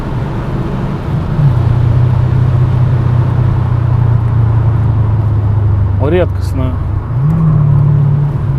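A Hennessey-tuned 800 HP Dodge Challenger SRT-8 thrums with a loud, steady low engine drone that dips briefly and then swells again, with someone talking over it.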